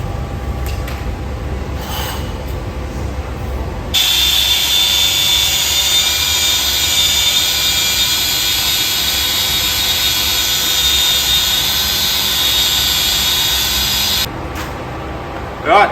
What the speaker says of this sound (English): So I'll just tidy these up now with the wire wheel.